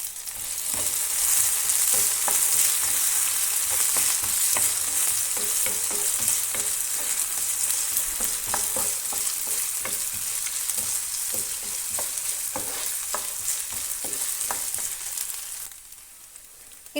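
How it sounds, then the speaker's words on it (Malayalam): Diced potato being stirred into a sizzling masala in a pan for a Karnataka-style mixed vegetable curry, with steady close frying hiss and repeated scraping stir strokes, quieting at the very end. "എല്ലാം കൂടെ ഒന്ന് നന്നായി മിക്സ് ചെയ്ത് കൊടുക്കാം."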